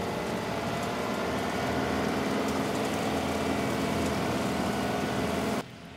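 A John Deere 2038R compact tractor's engine labouring under load while pulling a flex wing mower through heavy material, a dense, steady roar and churn that drops abruptly to a lower hum near the end.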